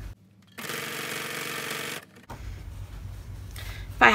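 A sewing machine stitches a fabric project bag in one steady run of rapid, even whirring for about a second and a half, then goes quiet apart from soft handling noises and a brief clack at the end.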